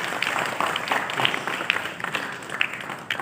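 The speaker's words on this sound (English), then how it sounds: "huge round of applause for Mr. Rahane." Audience applause welcoming cricketer Ajinkya Rahane at an India Chamber of Commerce centenary event, a brief burst of steady clapping from a crowd, moderately loud and close.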